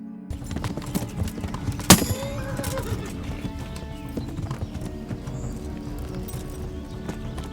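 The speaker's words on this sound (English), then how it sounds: "after an intense horse chase through the forest" Horses gallop with steady clip-clop hoofbeats through a forest chase in the video game Kingdom Come: Deliverance, a sharp whinny cutting in early, with low rumbling game music underneath.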